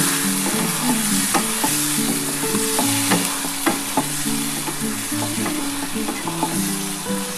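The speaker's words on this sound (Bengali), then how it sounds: "আমি এই মশলা বাটার জলটা দিয়ে দেব। দিয়ে একটু ভালো করে কষিয়ে নেব।" Spice paste water added to a pan for a duck egg curry fries loudly, a dense continuous sizzle with rhythmic stirring scrapes and bubbling, close and steady throughout.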